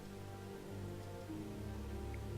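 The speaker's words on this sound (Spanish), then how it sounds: "Ahora parece que está lloviendo otra vez." Steady soft rain patters throughout in Kingdom Come: Deliverance, a low constant wash with faint droplet detail, quiet and even from start to finish.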